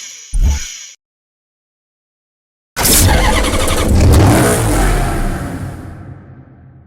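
Maserati Quattroporte police car in Need for Speed Hot Pursuit Remastered: a short engine blip, a silent gap, then a loud start-up and sustained revving roar that slowly fades.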